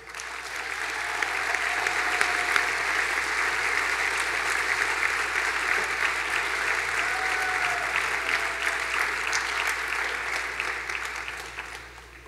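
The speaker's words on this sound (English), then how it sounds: "Please give these folks one more round of applause." Audience applause at a school district recognition breakfast, a steady dense clapping from a full room lasting about twelve seconds before tapering off at the end, with no talking over it.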